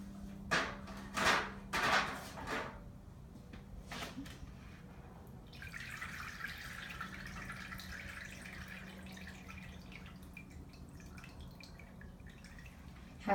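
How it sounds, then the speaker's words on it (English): Water poured through a gravel filter in a clean-water lab demonstration: a few loud splashy pours at the start, then a steady soft trickle and hiss of water draining through the gravel, with no talking. "pour the water through the gravel to get rid of all the tiny, small pieces that went through the strainer"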